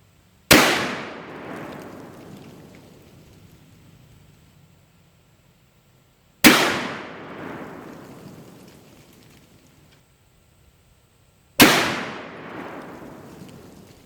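A .460 caliber Bone Collector rifle fires a string of three loud, sharp shots a few seconds apart during accuracy testing outdoors, each blast ringing out and decaying slowly into quiet between reports.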